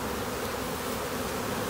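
A honey bee swarm hums steadily around a hive set in a tree, a dense, continuous buzz of many bees held close and even for the whole moment with no voices.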